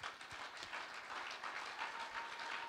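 A church congregation applauds during a service, a soft, steady wash of many hands clapping at once, heard faint and distant.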